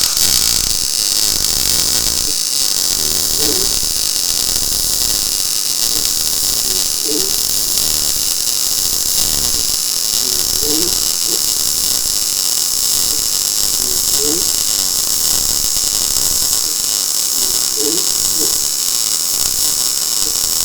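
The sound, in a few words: MIG welding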